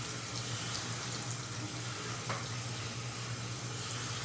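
Steady running water from a tap or shower pours continuously over hair being wetted on wash day, a constant close hiss with no talk.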